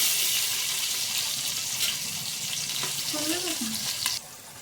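Oil and butter sizzle and fry steadily in a pan with green chillies for chicken biryani, a continuous close hiss with a few light stirring scrapes; a brief voice murmurs underneath.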